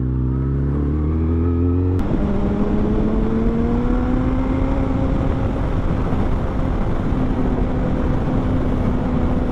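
A motorcycle rides along a road on a cold day. Its engine drones steadily and loudly up close, the pitch rising as it accelerates after a sharp shift, with heavy wind rush throughout.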